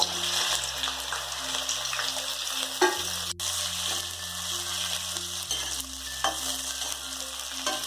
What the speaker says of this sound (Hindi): हमारा ऑयल जब अच्छे से गर्म हो जाए तब हम लोग इसको सावधानी से इसमें एक भिंडी डाल के इसको अच्छे से फ्राई कर लेंगे